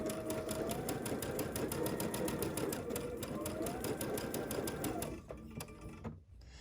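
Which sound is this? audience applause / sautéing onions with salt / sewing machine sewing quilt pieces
sewing machine sewing quilt pieces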